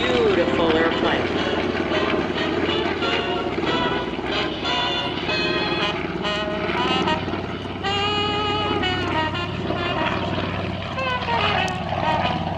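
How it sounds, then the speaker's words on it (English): A propeller-driven warbird roars past loudly at an air show, its engine drone steady and rising in pitch, with an announcer's voice over it. "Steps up. Beautiful airplane."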